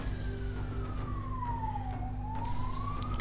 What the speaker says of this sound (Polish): jeżdżą u mnie ciągle policje, karetki